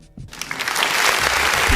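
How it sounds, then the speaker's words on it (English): A crowd applauding steadily, claps building from a quiet start into a full, dense round that keeps going to the end. "I gotta give you a big round of applause"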